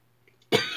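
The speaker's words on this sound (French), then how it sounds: "oh bah tiens, il me fait tousser lui" A single sharp cough comes from a person close by in a quiet room during a Christmas bell craft session, with short faint sounds just before it.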